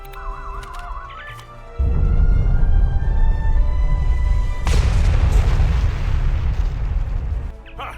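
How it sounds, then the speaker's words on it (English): Bombs detonate in Star Trek Online with a sudden loud blast that swells into a long, heavy rumbling roar, another burst cracking in midway before the booming fades out. "bombs are primed to blow"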